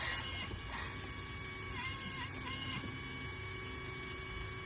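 RC4WD Earth Digger 360L radio-controlled excavator with a large bucket digging into clay, a steady whine of small motors and hydraulics with creaks and faint scraping at close range, no voices.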